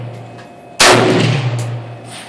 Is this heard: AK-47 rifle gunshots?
yes